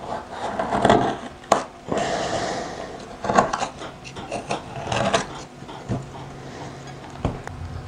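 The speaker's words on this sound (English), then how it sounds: "it's easier to scrape out the meat with the butter knife" Butter knife scraping fresh coconut meat from a cracked half shell, heard as irregular close scratchy rasps and rubbing strokes with a few sharp clicks, no talking.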